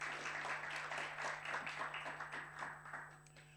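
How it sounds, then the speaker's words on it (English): Faint round of audience clapping at a university library international conference in a large hall, a soft continuous patter of many hands with a steady low electrical hum beneath, fading slightly toward the end. "give yourself a big round of applause for showing up"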